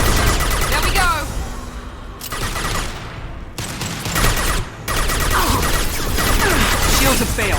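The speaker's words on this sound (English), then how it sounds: "Firing concussive shot." Concussive shots and rapid gunfire in the Mass Effect 2 video game, dense bursts of shooting and impacts with brief lulls, under spoken combat dialogue.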